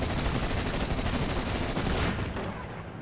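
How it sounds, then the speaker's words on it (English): Dense, continuous gunfire in the WWII strategy video game Steel Division, loud and sustained throughout with overlapping rapid shots, easing slightly at the very end. "We'll start shooting at these guys."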